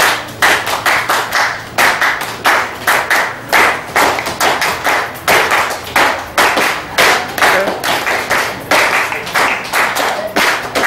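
An audience claps in a steady, even rhythm for a traditional Ugandan dance demonstration. The sharp, loud claps come in unbroken repeating beats throughout.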